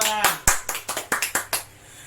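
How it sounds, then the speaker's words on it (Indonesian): Children in an Indonesian classroom clap their hands together in a quick rhythmic burst of about eight sharp, loud claps, then fall quiet. "Tepuk tangan, tepuk tangan, tepuk tangan"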